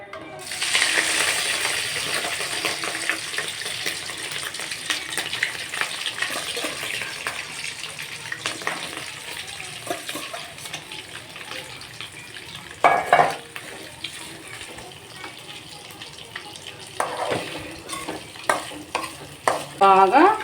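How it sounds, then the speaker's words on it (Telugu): Mutton liver frying in oil in a pan, a steady sizzle broken by the scrape and clink of stirring and a few louder knocks near the end. "Okay, liver fry."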